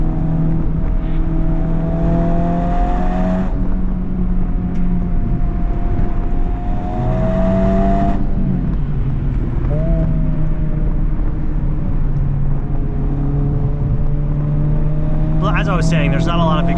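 A Honda Civic Type R FL5 driven hard through canyon roads, the engine droning loud and steady inside the cabin, pitch rising through each gear and dropping at upshifts, heard from the driver's seat.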